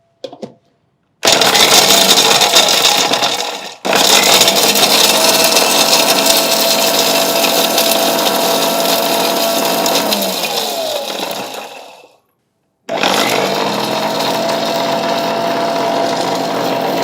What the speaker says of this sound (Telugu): ఇప్పుడు మనం మిక్సీ పట్టుకున్నాం పొడి లెక్క.